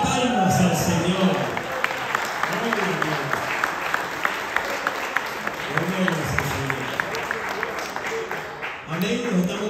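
A church congregation applauding, many hands clapping together in a steady, fairly regular rhythm under murmuring voices and speech, loud and close throughout.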